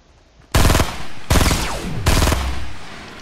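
Three loud, close gunshot bursts from a weapon in Fortnite Battle Royale ring out about three-quarters of a second apart, each a sharp crack with a lingering tail.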